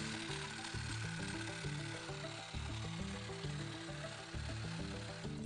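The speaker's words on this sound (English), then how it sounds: "This new cordless hedge cutter also has the tried and tested ECP system" Bosch AHS 55-20 LI 18-volt cordless hedge cutter running, a steady motor whirr with a rapid chattering blade rhythm and brief dips in load, fairly quiet and heard alone.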